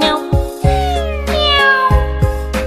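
A male singer imitates a cat with his voice, producing a string of loud, close, sliding meows in quick succession, each gliding downward in pitch with strong harmonics.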